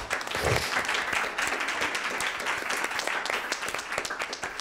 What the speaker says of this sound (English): Christopher Sebastian, big round of applause, please.